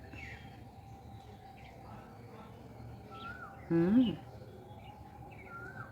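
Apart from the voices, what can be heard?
Asian koel (cuckoo) calling at dusk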